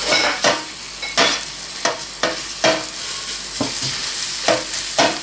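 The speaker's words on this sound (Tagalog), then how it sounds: "magpapainit lang tayo ng oil dito sa ating pan. So, magigisa na tayo. So, ilagay natin yung garlic." Garlic sautéing in hot oil in a pan, with a bright continuous sizzle broken by repeated sharp bursts as the garlic is stirred, loud and close, no talking.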